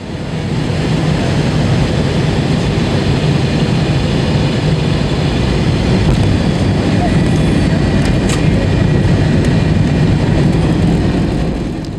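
A fixed-wing airplane returning for an emergency landing: a loud, steady jet engine roar with a deep low rumble, constant and unbroken from start to finish.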